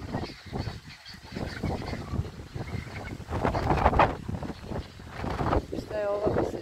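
Domestic geese, white and Japanese breeds, honk on a poultry farm that also keeps turkeys, ostriches and ducklings; several honks come close over wind noise, with people talking nearby.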